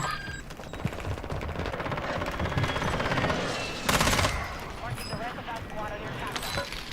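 Gunfire in the shooter Warzone 2, rapid automatic bursts running steadily through the clip with a louder burst near the middle, partly under a voice speaking.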